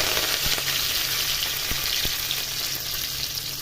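Curry leaves and tempering spices crackle in hot oil for a taro-root curry, a steady close sizzle punctuated by a few sharp pops and spits.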